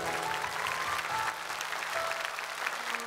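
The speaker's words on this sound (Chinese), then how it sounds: "咱们观众朋友们也用掌声祝他爸爸妈妈健康长寿" A TV studio audience applauds at a variety show, with dense, even clapping that stays loud for the whole stretch and briefly dips midway. A few faint tones sound underneath.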